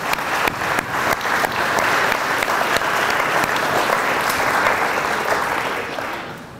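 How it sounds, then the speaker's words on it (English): A crowd at an elementary school graduation gives a sustained round of applause, dense clapping at a steady loud level that tapers slightly at the end. "I think it'd be nice to give him a round of applause"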